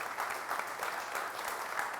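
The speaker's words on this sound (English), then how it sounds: "if we could all just give Edwin a round of applause and a welcome to..." Steady applause from an audience welcoming a guest at an evening coffee event, a dense even clatter of clapping hands heard alone, moderately quiet and continuous throughout.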